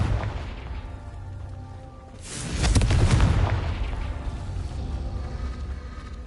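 A Confringo fire spell blasts in Hogwarts Legacy, a single deep, rumbling boom that swells over about a second and then rolls away into a low lingering roar, loud against a steady ambient background.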